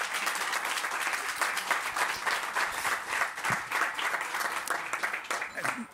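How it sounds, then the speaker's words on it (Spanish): Crowd of attendees at a Campus Party Mexico presentation applauding a presenter named Axel, a full, continuous wash of clapping with a few louder close hand claps and faint crowd murmur underneath. "Un aplauso para Axel nuevamente"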